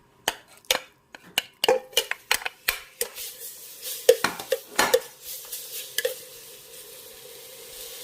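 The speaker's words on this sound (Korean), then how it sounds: "아, 달궈지기 전에 미리 놓고 한번 볶아 보겠습니다." Beef stir-fried in a pot over a gas flame for Korean beef and radish soup, heard as a run of sharp spatula scrapes and clinks against the pot, dense for the first five seconds, then sparser with a soft sizzle underneath and no talking.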